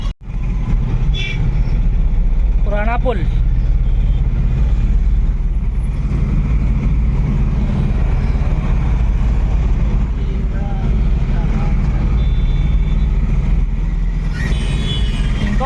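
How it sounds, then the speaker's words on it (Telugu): Road traffic jam on a Hyderabad city street, with loud, constant engine rumble and a horn or two heard nearby from the road, while someone speaks over it. "ఈ రోడ్లో ట్రాఫిక్ జామ్ ఉన్నది మంచిగానే."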